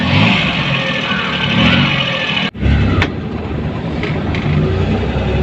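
A modified Maruti Omni van drives along with its engine running loud and close, a steady throaty drone with a brief dip midway before the engine note resumes, no speech over it.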